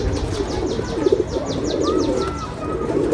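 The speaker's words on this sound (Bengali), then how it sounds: "তো আরও কিছু কবুতর আছে সেগুলো দেখি।" Pigeons coo on a pigeon farm, several soft throaty coos rising and falling close by, with faint chirps and background rustle around them.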